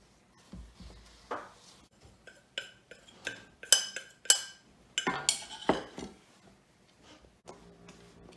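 Brownie batter being mixed with added flour in a bowl, a series of irregular clinks and scrapes of utensil against the bowl, quiet and close, in short bursts with pauses.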